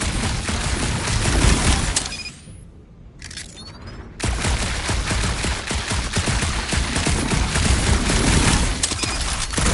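Rapid gunfire from the Guardians of the Galaxy video game, dense bursts of shots that rattle on for several seconds, break off into a brief low lull, then resume just as loud and steady.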